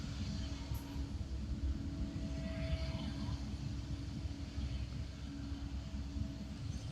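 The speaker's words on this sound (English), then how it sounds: "The next departure will be Alaska heading off to Seattle." An Alaska Airlines jet in oneworld livery departs Honolulu airport, heard as a steady, distant roar of jet engines with a broad rumble that holds without a break for the whole stretch.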